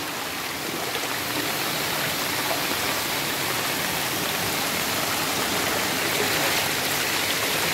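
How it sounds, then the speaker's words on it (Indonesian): Loud, steady rushing floodwater roars continuously, a broad hiss like a fast-flowing river with no pauses or voices. "Kayak sungai deras airnya"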